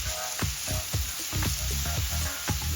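Apples for an apple tart slowly cooking in a pan, giving a steady, soft sizzle with gentle stirring clicks and scrapes recurring at an even pace throughout.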